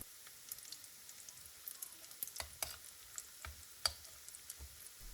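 Sweet potato rosti fries in a pan with a quiet, steady sizzle broken by irregular sharp crackles and pops, faint and close, with no voices.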